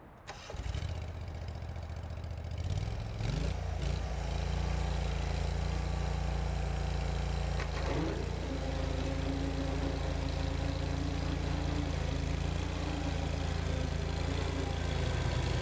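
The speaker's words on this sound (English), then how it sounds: "This is an HB580 Ventrac broom, power broom, on a Steiner 430 with a Kohler gas 25 horsepower motor." A Steiner 430 tractor with a 25-horsepower Kohler gas engine and a Ventrac HB580 power broom cranks and starts. It settles into a loud, steady close engine drone with the broom's whir, and the pitch shifts slightly near the middle.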